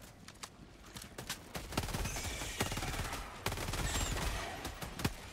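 Rapid gunfire from the pea shooter weapon in the video game Helldivers II, a dense run of sharp cracking shots over a busy background of in-game combat noise.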